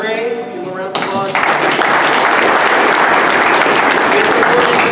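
Loud, dense applause and crowd noise for wrestling award nominees Caleb Cameron and Andy Gray at a 2019 banquet, swelling in after a brief spoken introduction and holding steady to the end.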